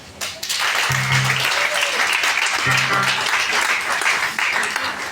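A church congregation applauding God in loud, sustained clapping that fills the room, with voices calling out underneath.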